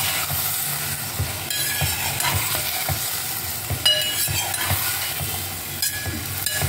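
Vegetables sautéing in a pan with curry leaves for sambar rice, a steady close sizzle with scattered stirring scrapes and clicks throughout, no talking.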